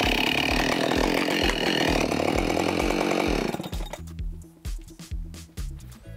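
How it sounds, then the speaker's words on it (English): A loud chainsaw roars steadily while cutting wood, then drops to a sputtering idle with revving bursts as the cut finishes. "So I'm gonna grab the chainsaw"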